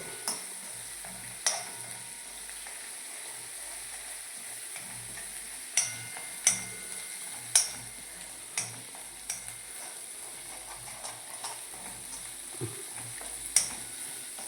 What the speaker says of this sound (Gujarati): આ રીતે મરચાં લસણ થોડુંક શેકી લેવા પડે